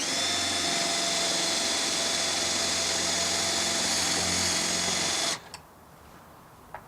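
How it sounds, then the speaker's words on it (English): Power drill steadily whining as it pre-drills a hole in a mounting surface for a motorized shade, a continuous near buzz lasting about five seconds before stopping abruptly, followed by a couple of faint knocks. "grab your drill, pre-drill your top hole"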